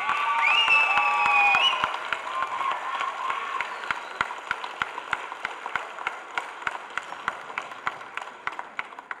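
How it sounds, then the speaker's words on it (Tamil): Audience at a film trailer launch event applauding: a loud burst of crowd clapping and cheering at the start, thinning into scattered, distinct individual claps that continue rhythmically and more sparsely to the end. "அவருக்காக எல்லாரும் எந்திரிச்சுட்டு கைத்தட்டணும்னு கேட்குறேன்"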